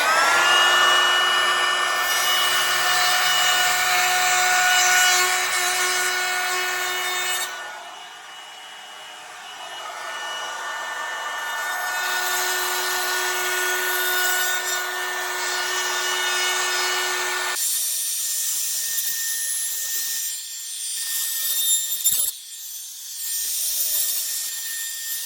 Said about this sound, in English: router down the sides just to make it look a bit fancy